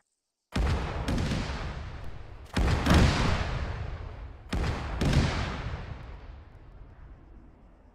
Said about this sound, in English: Get ready for artillery.